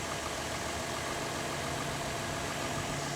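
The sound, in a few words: Chevrolet Camaro 3.7 liter V6 engine idling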